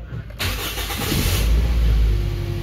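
A cold fuel-injected car engine cranks and catches after a short quiet moment, then settles into a steady, rumbling idle, close and moderately loud.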